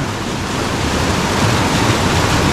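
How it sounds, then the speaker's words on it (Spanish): A mountain waterfall at Agua Caliente, Chalatenango, El Salvador, heard as a steady, loud, broadband rush of falling water that continues without a break. "Miren, allá arriba otra cascada, otro salto."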